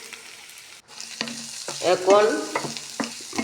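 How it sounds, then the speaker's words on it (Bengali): Onion and garlic frying in hot oil in a kadai give a steady sizzle with scraping stirs, rising louder midway, while a voice briefly speaks. "ভাজা করে নিচ্ছি সেইগুলোকে, পেঁয়াজ রসুনগুলোকে"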